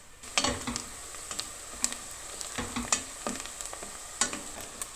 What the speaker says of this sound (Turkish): sucuğu koydum ve karıştırıyorum